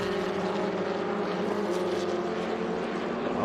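Trans Am series race cars at Laguna Seca roar steadily at a distance, a continuous droning engine note with no talk.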